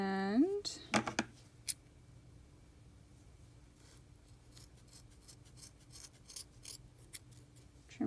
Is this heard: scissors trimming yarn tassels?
yes